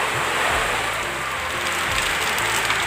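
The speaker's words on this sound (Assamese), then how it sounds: "এইফালে ইমান বৰষুণ দিছে দেখিছেনে" Loud, dense rain pouring down steadily, a constant roaring hiss with no voices.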